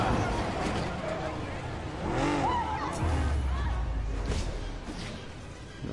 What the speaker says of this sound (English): And then we stop the car